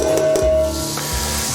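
Four medium onions dumped onto a hot Blackstone griddle, giving a short, loud, close hiss and sizzle with a faint scrape.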